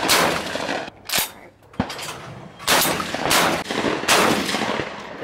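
Benelli Montefeltro shotgun firing on a sporting clays course: several loud, sharp blasts spaced irregularly, each with a short echoing tail, close by, with brief voices between shots.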